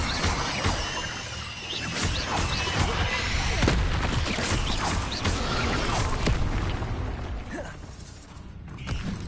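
An Incendio fire spell goes off in Hogwarts Legacy amid dense game noise: crackling bursts, mechanical clanks and booms layered with music and effects, loud and continuous, fading slightly near the end.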